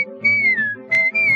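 Someone whistles a short, bright tune of a few sliding notes, clear and close with no talk over it.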